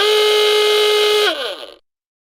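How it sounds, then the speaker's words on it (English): An E2S Hootronic alarm sounder plays its industrial hooter tone: a loud, steady, reedy horn blast held for over a second, then sliding down in pitch and cutting off. "Tone 1 is the industrial hooter."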